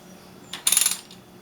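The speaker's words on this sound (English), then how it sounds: "there goes the intake valve down" Bare LQ4 V8 engine being turned over slowly by hand with the intake valve moving down, giving a short burst of metallic ratcheting clicks that rises and fades within a second, close by and otherwise quiet.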